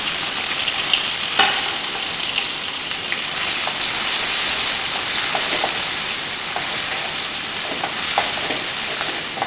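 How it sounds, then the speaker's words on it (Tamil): Steady, close sizzling and crackling of onion sautéing in a frying pan, with occasional clicks of stirring. "நல்லா வதக்கி விட்டுக்கணும்."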